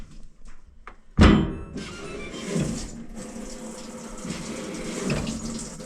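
A loud thunk as a machine starts, then water rushing and splashing steadily inside it, continuing with a low churning hum.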